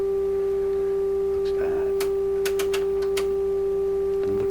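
A steady sine wave test tone hums unbroken at one constant pitch while stereo separation is adjusted on a Nordmende 3004C, with a few soft scattered clicks and ticks over it.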